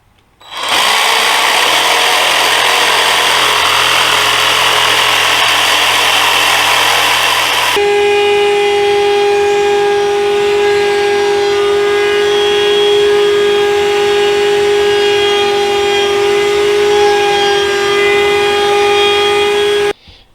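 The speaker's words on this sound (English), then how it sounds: "The pieces are so badly damaged that I'm actually planing them down" Power planer shaving down badly damaged wood pieces of a magazine rack, a loud close roar that shifts to a steady high whine midway and runs for about eighteen seconds before cutting off.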